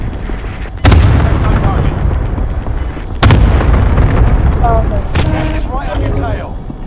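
Allied cluster airstrike in Call of Duty Modern Warfare: sharp loud blasts land in separate hits over heavy rumbling battle noise, with faint radio-style voice chatter mixed in.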